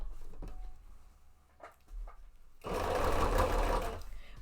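A sewing machine stitches a cape mock-up, a close, fast steady whir running for about two seconds after some quiet handling noises and faint murmurs.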